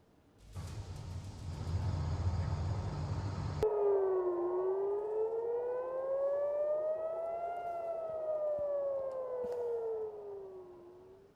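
Air raid sirens in Tel Aviv wail during an Iranian missile barrage with a slow rising and falling pitch, loud and sustained, after a brief burst of noisy commotion at the start.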